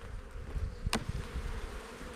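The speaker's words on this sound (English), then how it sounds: "There's tons of bees here." Honey bees buzz steadily around an open beehive during a hive inspection, a close, dense drone of many wings holding without pause, with a brief sharp click partway through.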